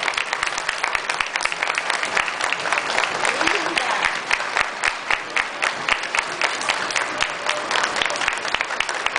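Sustained crowd applause at the Fenarroz 2010 themed parade, greeting three parade queens in gala gowns; steady dense clapping that stays loud throughout, with talk mixed underneath.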